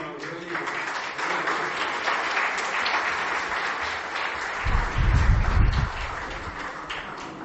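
Audience applause after a history talk on the Goa land grab, a steady wash of clapping that swells briefly near the end, with some low thumping underneath.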